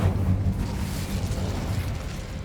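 An Incendio fire spell is cast in Hogwarts Legacy, giving off a dense, roaring burst of flame. It sounds like a loud, continuous whoosh that lasts a couple of seconds, with no voice over it.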